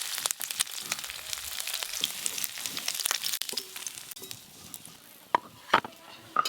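Prawns frying in oil, a soft continuous sizzle with scattered pops and crackles, fairly quiet, with a few sharper clicks near the end.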